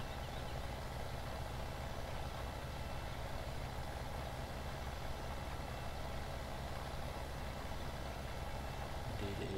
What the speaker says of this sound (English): The tractor might be a little bit underpowered.